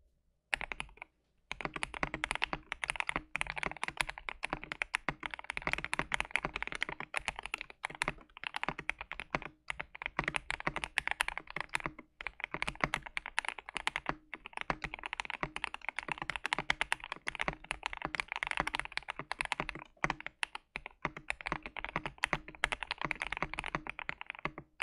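Steady, fast typing on a KBD67 Lite mechanical keyboard fitted with white PE foam, producing a dense run of crisp, poppy clacks close to the microphone, with only brief pauses.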